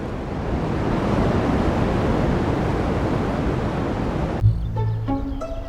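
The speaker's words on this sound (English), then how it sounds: "This sound is the first evidence of the Big Bang" Continuous broadband hiss, the cosmic background radio noise from the Big Bang picked up by the horn reflector antenna at Bell Laboratories, steady and static-like for most of its length before cutting abruptly into a brief musical passage.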